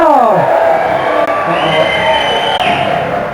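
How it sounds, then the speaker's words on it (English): A television game show studio audience whoops and cheers loudly for a contestant, a sustained swell of raised voices and shouts that carries evenly across the whole stretch. "a round of applause again for our gallant contestant"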